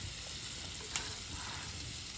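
Kaul fry sizzling in a pan at a Maharashtrian village-style family party, a steady, soft hiss of frying running throughout with one small clink near the middle and no talking.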